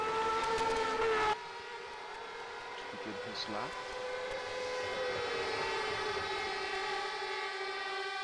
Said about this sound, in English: The horns in the crowd.